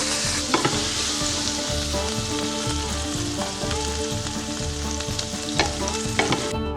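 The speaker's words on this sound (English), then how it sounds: "Frying a bit of halloumi cheese" Halloumi cheese sizzles steadily in a hot pan, with a constant crackling hiss and occasional sharp pops, close and loud, with no voices.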